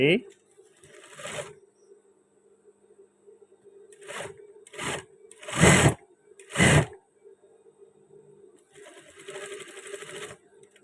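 Sewing machine stitching the shoulder seam of a batik shirt, running in several short bursts of rapid mechanical whirring separated by pauses, close and fairly loud.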